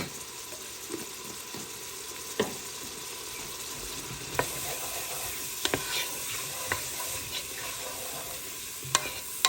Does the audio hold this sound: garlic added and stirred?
yes